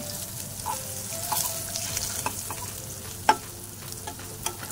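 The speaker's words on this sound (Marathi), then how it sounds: "व्यवस्थित फ्राय करून घेते मी" Halwa fish slices fry in a pan, Malvani style, with a close crackling sizzle while a spatula scrapes and turns them, making a few sharp clicks and knocks against the pan, and no voices.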